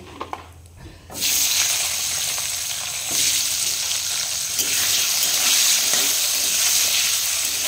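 Potatoes frying in a pan with whole cumin, part of a Bengali home-style curry: a quieter second opens the clip, then a loud, steady close-up sizzle runs on to the end, with no talking.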